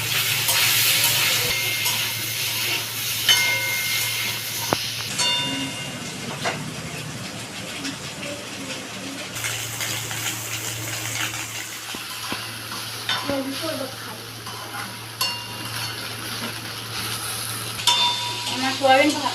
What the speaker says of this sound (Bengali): এবার আমি সোয়াবিনগুলোকে দিয়ে দিচ্ছি।